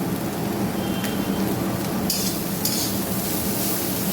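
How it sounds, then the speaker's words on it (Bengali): Slit green chillies fry in hot oil in a pan, giving a loud, dense crackling sizzle like heavy rain, with a couple of brief sharper spitting bursts near the end. "লঙ্কাটা ভাজা ভাজা হবে ভাতের সঙ্গে"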